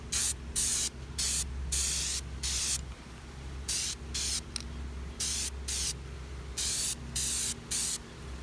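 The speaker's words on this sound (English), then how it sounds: "Make sure you hold the can 6 to 7 inches away from the spraying surface, and spray in a sweeping" Primer sprayed from an aerosol can onto a car rim, a series of loud hissing bursts of about half a second each, separated by short pauses, with a low hum underneath.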